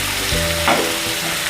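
Eggs frying in a pan for egg curry, stirred now and then, making a close, constant sizzle with a brief scraping stir in the middle and no talking.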